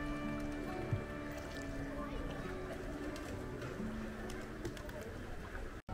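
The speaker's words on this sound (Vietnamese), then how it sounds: "Gần tới đảo là đã nghe thấy tiếng chim bồ câu rồi." Pigeons on Parahim island near Pokhara, Nepal, approached by rowboat: soft low cooing drifts in and out over steady water and boat ambience, with a voice speaking over the scene.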